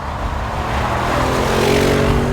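A 2014 Audi RS7 runs at high speed on a German autobahn, its engine a loud, close, steady roar that builds gradually as it accelerates, over rushing wind and tyre noise, with no talking.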